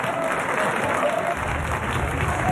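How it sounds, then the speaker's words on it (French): Warm applause from an audience at a student event, continuous clapping filling the whole short stretch at an even, moderate level with no talk over it. "Donc on peut l'applaudir chaleureusement."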